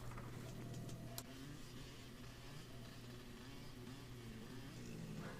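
Motorcycle engine from the motocross video game Motocross Madness, a steady mid-pitched drone with faint revving that holds at an even level throughout, with no talking.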